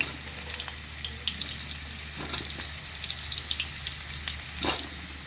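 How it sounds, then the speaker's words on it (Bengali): Papaya and carrot pieces gently frying in a pan with potatoes for chicken stew, a soft steady sizzle with occasional stirring clinks and scrapes, close and moderately quiet. "পেঁপে গাজর দিয়ে দিলাম, হালকা ভাজবো।"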